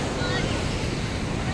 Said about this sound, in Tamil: நான் இன்றைக்கி எங்கே இருக்கேன்னு பார்த்தீங்கன்னா சென்னை மெரினா கடற்கரையில் இருக்கேன்